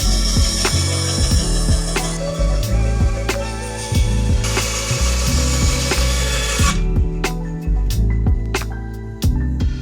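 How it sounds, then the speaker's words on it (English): Bandsaw cutting a tapered wooden handle blank for a homemade carbide scraper in a woodshop, a loud continuous whine and rasp of the blade through wood with shifting pitch as the cut progresses, tapering off near the end. "Taper it in and then cut it on the bandsaw."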